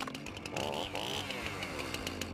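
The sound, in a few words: chainsaw revving in a political ad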